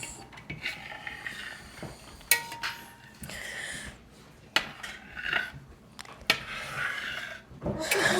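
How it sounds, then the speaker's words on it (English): Spoon scraping and rubbing through warm cheese curds in a pot just taken off the heat during homemade Italian cheese making, irregular close stirring strokes with occasional sharper scrapes against the pot, no talking. "we're gonna remove it from the heat and stir for 5 minutes"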